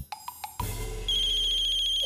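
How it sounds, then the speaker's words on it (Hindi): A telephone rings loudly in a Hindi TV drama household scene, first short chirps, then a steady sustained electronic ringtone, close and alone without talk. "Phone phone phone phone phone, किसी का तो फोन है।"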